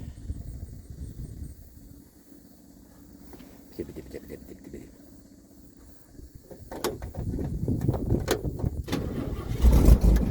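A 1950s Chevy engine cranks and catches after its electric fuel pump primes, a low rumble building from about six seconds into a louder, steady run near the end.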